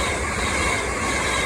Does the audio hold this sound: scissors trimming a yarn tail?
no